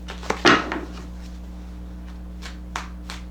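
Tarot cards shuffled by hand, a short burst of riffling at the start followed by a few soft taps and slaps of cards, close and alone.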